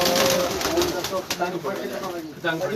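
Cheena pigeons, a prized breed, coo softly amid a noisy loft in Chunian, Pakistan, with faint wing flaps and bird calls under people talking nearby.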